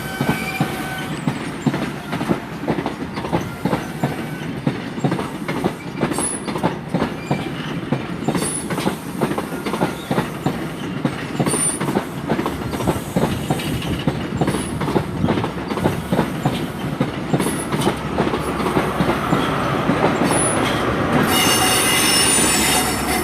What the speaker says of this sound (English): departing out 43174 off to London Paddington via Bath Spa from Swansea, the 15:12 departure.